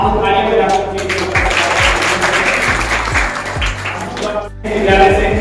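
An audience claps steadily in a school meeting room, welcoming an MLC teacher legislator, Shri Yogesh Dwivedi; the applause is loud and continuous, with a brief dip near the end and faint voices underneath.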